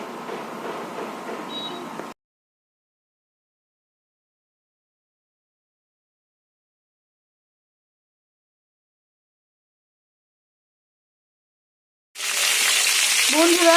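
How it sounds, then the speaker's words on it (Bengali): Cauliflower and potato curry frying in a pan on a home stove, a steady broadband sizzle for about two seconds, then a long silence, then the sizzling returns louder and continuous. "দেখুন বসিয়ে দিয়েছি ফুলকপি আলুর তরকারি করবো"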